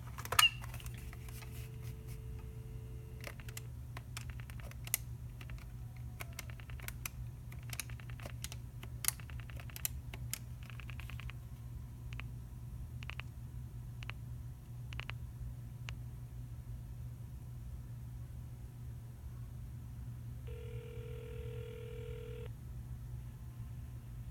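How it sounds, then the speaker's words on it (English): Keypad tones and clicks from a Stanford dorm telephone being dialed, a quick series of short beeps over a steady low hum, ending with a brief tone. "I can dial the regular local number here that they have in San Francisco"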